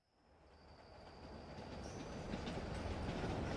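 A train moving along the rails, its rumble and wheel clatter building steadily from faint to fuller over a few seconds, heard at a distance with no voices.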